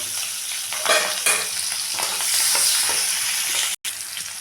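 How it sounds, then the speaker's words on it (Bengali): Chopped onion frying in oil left over from frying eggs, a bright continuous sizzle up close with spatula stirs and scrapes breaking through, no talking. "এই তেলের মধ্যেই দিয়ে দিলাম একটু পেঁয়াজ কুচি। পেঁয়াজটাকে একটু ভেজে নেব।"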